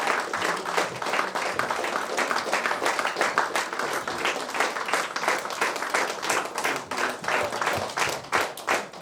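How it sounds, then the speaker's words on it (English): Audience members clap for a troupe of yoga performers, a dense, sustained round of applause with many hands striking in quick, overlapping rhythm, loud and continuous for the whole stretch. "We definitely need to keep clapping for them"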